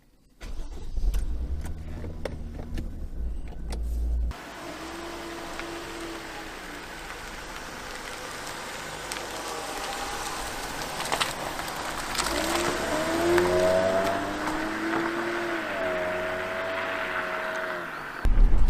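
A 1991 Toyota Soarer 2.5GT-T twin-turbo car heard from inside on a test drive, its engine humming and revving up repeatedly through gears with rising and falling pitch, steady road noise underneath.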